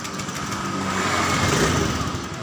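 A Honda Beat motorcycle engine idles steadily without the revs rising, a close, continuous low putter with no change in pitch, alone without talk.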